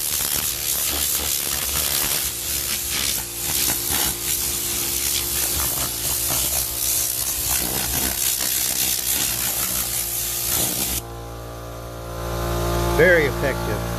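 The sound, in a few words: air compressor running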